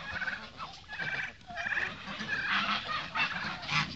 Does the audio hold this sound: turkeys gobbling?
yes